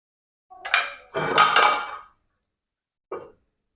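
A lid is set on a pot of lentil curry with drumsticks, two close, clattering metallic bursts followed by a brief light clink after a pause.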